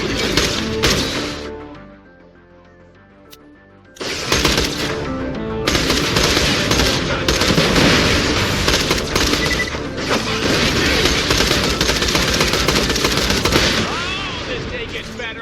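Sustained loud gunfire while shooting turrets in the Borderlands The Pre-Sequel video game, rapid machine-gun bursts and crashes filling most of the clip after a short quieter gap.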